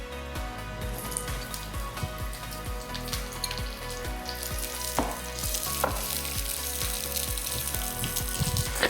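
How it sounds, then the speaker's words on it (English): Onions sautéing in oil in a pan over medium-high heat, a steady close sizzle with clinks and scrapes of stirring, no voices. "We're gonna saute those off till they get basically translucent or see-through"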